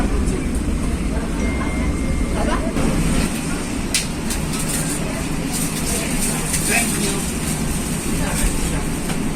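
Train at Bangil railway station in Indonesia gives a steady loud rumble of rolling wheels and carriage noise, with occasional sharp metallic clicks and squeals, and someone speaking over it.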